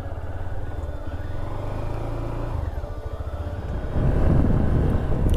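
A motorbike on a trip to Bum La Pass in Arunachal Pradesh labours up a steep mountain road, its engine droning steadily nearby and rising louder toward the end.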